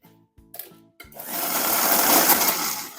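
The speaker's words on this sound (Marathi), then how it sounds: "आपण मिक्सर मधून आता बारीक पेस्ट करून घ्यायची आहे" Mixer grinder whirring steadily as it blends masala into a fine paste for shahi paneer, starting with a few short pulses before running continuously and loudly.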